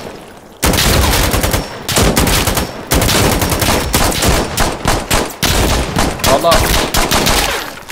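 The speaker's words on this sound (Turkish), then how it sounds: "Abi silah sesleri, silah sesleri." Dense, rapid gunfire crackles through a tactical shooter match in Insurgency Sandstorm, bursts of automatic fire and overlapping shots filling nearly the whole stretch, loud and close, with a player's brief voice mixed in.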